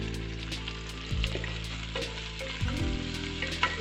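Country chicken frying and sautéing in a pot for biryani, a steady loud sizzle with a few brief stirring bumps, close and without talk.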